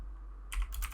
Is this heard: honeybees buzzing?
no